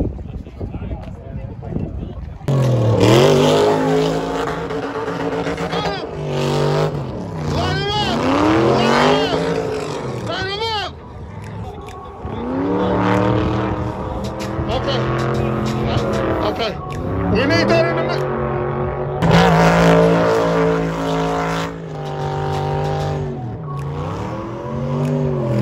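A GT race car engine at LS Fest West roars and revs hard, rising and falling in long pulls with tire squeal, loud and close under crowd and excited commentary.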